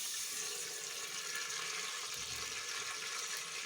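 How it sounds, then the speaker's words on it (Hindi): Water poured from a cup into a pot while cooking chicken karahi, a steady soft rushing trickle throughout, close but fairly quiet, with no speech. "नाज़रीन, मैं इसमें ये 1 कप पानी डाल रही हूँ"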